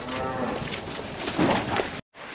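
Cow in a farm pen letting out a long, loud, close moo that fills nearly two seconds before cutting off abruptly, with no voices.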